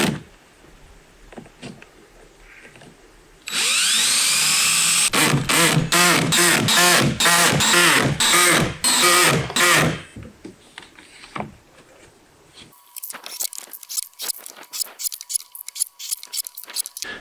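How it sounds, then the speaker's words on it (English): Power drill driving screws into a wooden liner strip for an inground wooden pool: a loud burst of rapid, repeated whirring pulses lasting several seconds, then quieter scattered clicks and taps. "Now we're just gonna add screws with about 150 millimeters apart."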